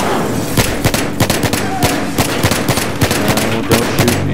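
Rapid gunfire in the Battlefield 3 video game, a loud, dense volley of repeated shots in quick rhythm filling the whole stretch, with no talk over it.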